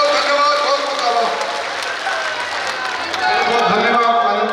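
A large audience claps and cheers to welcome three guests at a birthday gathering for Rajendra Rathore, with steady, dense applause sustained from start to finish and crowd noise mixed in.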